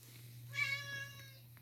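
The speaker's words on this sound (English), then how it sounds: "If you hear meowing, it's my cat in the background." A cat meows once in the background during litter box cleaning, a single short, fairly faint call over a steady low hum.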